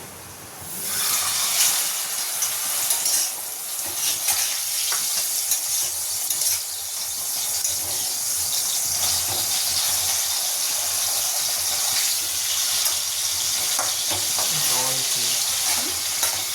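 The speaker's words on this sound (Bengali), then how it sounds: "এখানে বেগুনটাকে ফ্রাই করব।" Eggplant frying in a pan at home, a loud, hissing sizzle that swells after the first second and carries on steadily, with faint clatter and a voice briefly audible in the background.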